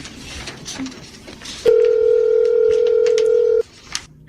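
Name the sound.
cellphone dialing and ringing tone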